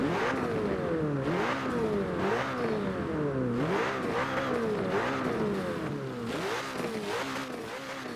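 A McLaren 720S twin-turbo V8 in the video game Forza Motorsport 7 roars continuously at high revs, its pitch sweeping up and down through repeated gear changes, loud and close.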